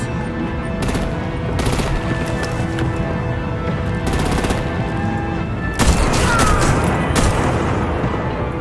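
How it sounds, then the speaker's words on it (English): Rapid gunfire and booming artillery blasts in the video game Batman: The Enemy Within, loud bursts repeating in clusters over a rumbling battle background. "Break out the artillery and disable their vehicles!"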